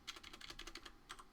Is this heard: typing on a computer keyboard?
yes